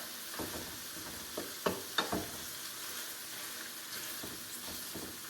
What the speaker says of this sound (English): we're going to saute all this stuff together